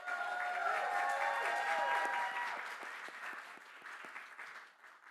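Sustained applause from a sizeable crowd at a commencement ceremony, loud and steady at first, then thinning and fading toward the end.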